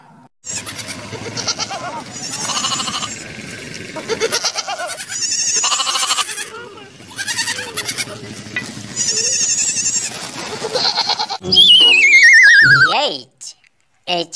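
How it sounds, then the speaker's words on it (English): A goat bleats amid a bright, busy children's phonics song, with a sung voice and music running throughout and a strong sweeping animal call near the end. "G for goat."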